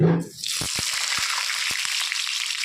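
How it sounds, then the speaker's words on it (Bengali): Cut potato pieces drop into hot oil in a wok and set off a loud, continuous sizzle and crackle right after a brief voice, with a few sharper pops scattered through the steady frying hiss. "তেলের মধ্যে এখন আমি টুকরো টুকরো করে কেটে রাখা আলু দিয়ে দিচ্ছি"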